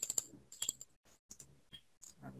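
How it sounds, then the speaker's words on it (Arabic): Left mouse button on a computer double-clicked, giving short sharp clicks at close range with quiet gaps, recorded during a Microsoft Access database lesson. "اروح اضغط عليه ضغطتين كليك شمال"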